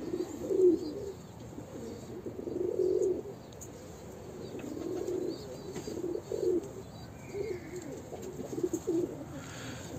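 Pigeons coo repeatedly inside a poultry coop, low rounded calls rising and falling every second or two at moderate distance, with faint chirps and some wing rustling in the background.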